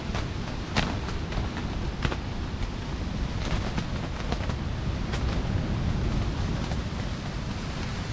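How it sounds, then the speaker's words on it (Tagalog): Very strong wind pounds a tent and the microphone at a campsite in Lobo, Batangas, making a dense, loud, continuous roar with sharp flapping thumps scattered throughout. "Sobrang lakas ng hangin."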